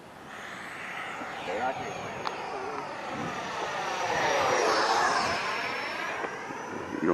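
An RC Gripen delta-wing jet with a 70mm ducted fan on a 6S setup comes in to land, its whining fan rising and sweeping past nearby before easing off, with people talking over it.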